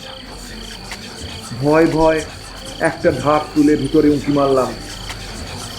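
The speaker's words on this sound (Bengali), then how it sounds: "ঝিঝির ডাকি কেবল শোনা যাচ্ছে।" Crickets keep up a thin, steady chirring drone at night under a voice, which narrates a few sentences over the constant insect background.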